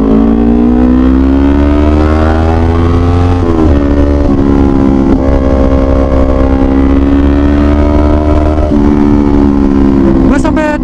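A 2018 Kawasaki Ninja 250 engine drones loud and steady while being ridden at high revs, its pitch holding and shifting slightly across the whole stretch, with a brief rise near the end.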